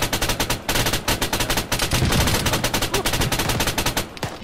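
Rapid automatic gunfire in Arma 3, a steady close stream of sharp shots with brief gaps, loud and dense with no voices over it.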